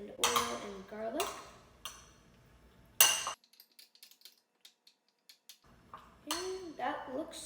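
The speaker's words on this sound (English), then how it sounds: "now I'm just going to break up the garlic, stir everything around a little bit." Utensil clinking and scraping in a bowl as bruschetta topping of tomato, mozzarella, garlic, oil and spices is stirred, several sharp close taps and scrapes in bursts between quieter pauses.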